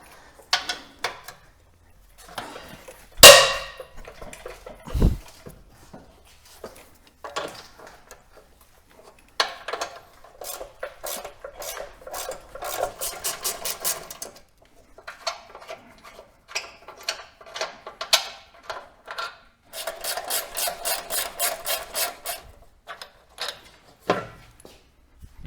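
A 17 mm socket loosens the steering rack mounting bolts on a Mitsubishi Outlander. A sharp crack marks a bolt breaking free, then bursts of rapid metallic ratchet clicking follow with pauses between them. The sounds are close and nobody speaks.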